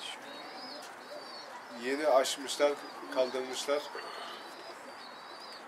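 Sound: pigeon cooing

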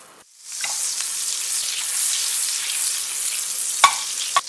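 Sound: butter melting and sizzling in a frying pan

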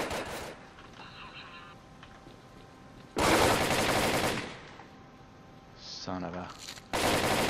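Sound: gunfire shooting at the player in the video game S.T.A.L.K.E.R

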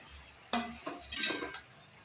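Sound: vegetables being stirred and sautéed in a pan, drumstick gravy

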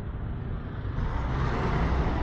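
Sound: semi truck passing close by a scooter

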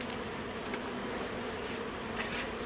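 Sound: honeybees buzzing at the hive

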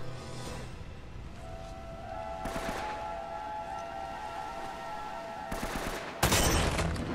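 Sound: gunfire from the video game Uncharted: Drake's Fortune

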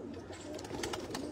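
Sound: pigeon cooing

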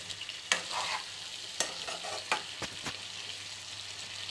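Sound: eggplant frying in oil under a lid

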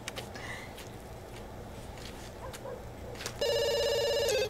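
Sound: phone ringing in video game The Sims 2

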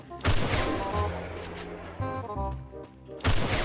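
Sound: gunshots in the video game Free Fire

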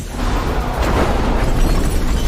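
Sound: gunfire and explosions as a convoy is ambushed in a film

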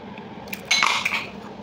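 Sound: pressure cooker lid being opened after cooking dal

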